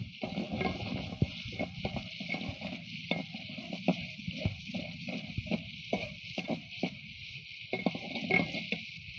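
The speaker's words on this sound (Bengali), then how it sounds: "এবার খুব ভালো করে মশলাটাকে কষিয়ে নিব" Spice paste being stirred and fried in oil for beef brain bhuna: a steady close sizzle broken by repeated scraping spoon strokes in an irregular rhythm, with no talking.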